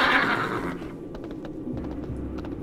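A horse in World of Warcraft, mounted by a human hunter character in Duskwood, gives a bright, loud whinny that fades into soft hoof steps and faint clicks.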